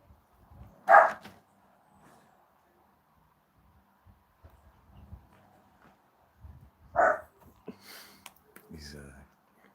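A dog barks in a garden, two sharp barks several seconds apart, moderately near, with quiet outdoor background and faint rustling between them.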